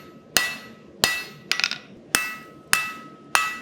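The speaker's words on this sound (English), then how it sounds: "And my hammer goes like this, and it goes like this, and it goes everywhere" A blacksmith's hammer rings on an anvil while forging: sharp, bright metallic strikes at a steady rhythm of about one per second, each with a short ringing decay, one blow followed by a quick rattle of small bounces, close and with no talk.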